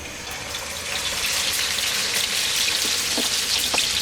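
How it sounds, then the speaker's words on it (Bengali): Rohu fish pieces fry in hot oil in a pan, giving a steady, loud, even sizzle with faint crackles and a few small pops near the end. "এখন আমি একটা প্যানে তেল গরম দিছি এটার মধ্যে এগুলাকে দিয়ে ভাজবো"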